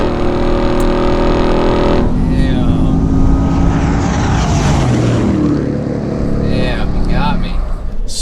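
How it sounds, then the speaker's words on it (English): A supercharged 2021 Hennessey Venom 775 F-150 races a stock 702-horsepower Ram TRX. Engines roar loudly and build under acceleration while excited voices talk over the noise. "F-150 pulling on and walking away from a stock Ram TRX with 702 horsepower"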